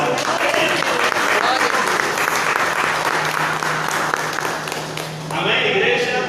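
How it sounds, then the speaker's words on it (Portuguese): A church congregation claps together during an evening worship service, a dense, loud, continuous round of applause lasting several seconds that briefly dips near the end before picking back up. "dá uma linda salva de palmas"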